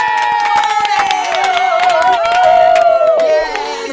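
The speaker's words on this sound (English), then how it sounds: "The crowd goes wild." Crowd cheering and clapping for the pop group Steps at a Gaydio radio event, loud and close, with a high sustained whoop riding over dense clapping.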